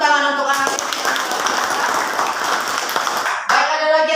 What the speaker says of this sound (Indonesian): Baik, tepuk tangan untuk anak ini.